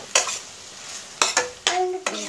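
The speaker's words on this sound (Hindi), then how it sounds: "बीच में आप चलाते जाइए।" Tomatoes and green chilies fry in a pan for Punjabi-style baingan bharta while a spoon stirs them, giving four short, close scraping and sizzling bursts separated by quiet gaps.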